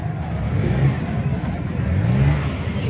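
A used auto rickshaw at a market in Pakistan, its engine idling and revving steadily with a low, continuous mechanical drone, close by and fairly loud throughout.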